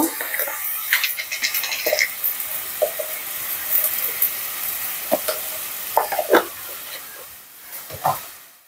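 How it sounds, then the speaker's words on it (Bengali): Onion and ginger paste masala frying and being stirred in a pan, with a steady sizzle and scattered scraping clicks of the spoon, close and moderately loud, ending in a few sharper knocks. "দিয়ে ভালো করে মশলাটা কষিয়ে নেব"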